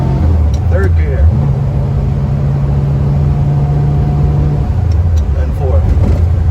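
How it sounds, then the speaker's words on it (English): A 1966 Chevrolet Nova restomod pulls away and climbs through the gears, its engine note steady and loud, then rising in pitch on each upshift, heard from inside the car with a constant rumble throughout. "Okay, first gear. I'm gonna go for a little ride."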